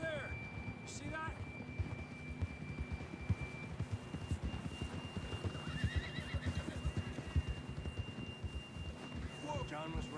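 A horse whinnies amid hoofbeats and outdoor ambience in Red Dead Redemption 2, with people talking over the action.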